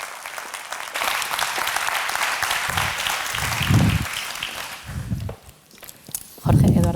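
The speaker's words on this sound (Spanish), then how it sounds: "Un aplauso para ellos, por favor." Audience applause for a panel of speakers at a round-table event, a sustained broadband clatter of clapping lasting most of the clip before tapering off, with a few low thumps and brief voices near the end.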